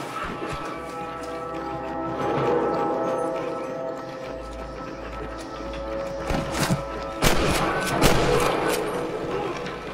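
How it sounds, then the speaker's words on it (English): In Red Dead Redemption 2, distant gunshots crack intermittently over a rumbling game soundscape with hoofbeats, a few sharper, louder bursts near the end. "I can hear more gunshots."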